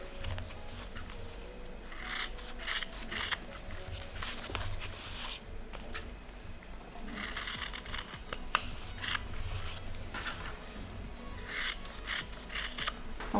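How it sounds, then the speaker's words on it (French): Scissors trim excess fabric beside a fresh straight-stitch seam on a drawing-portfolio pouch, giving close, repeated crisp snips and rasping cuts in irregular bursts with short pauses between them. "On découpe notre surplus de tissu."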